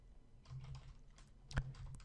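Quick, light taps on a computer keyboard as a file name is typed, a short close burst of soft clicks with one sharper keystroke near the end, no voices.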